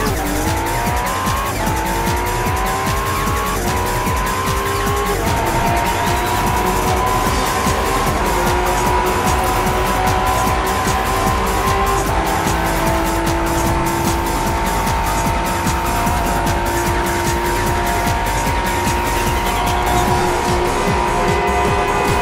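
An Acura NSX driven hard with full downforce, its engine roaring loudly and continuously with rising and shifting pitch and some tire squeal, close and sustained for over twenty seconds with no talking.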